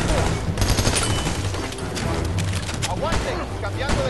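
Dense gunfire from the video game Army of Two: The Devil's Cartel rattles almost without pause, loud and close, with rapid automatic bursts layered over game noise and voices talking.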